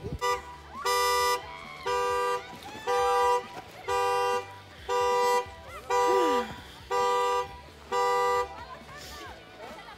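Outdoors in the snow, a car alarm honks in a regular pattern of about eight loud, evenly spaced tonal blasts with short gaps between them. Faint background sound sits between the honks.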